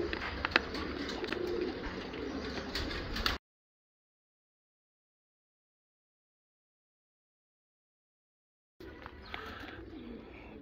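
A female Turkish tumbler pigeon coos amid busy, noisy surroundings for about three seconds. The sound drops to several seconds of total silence, then returns briefly.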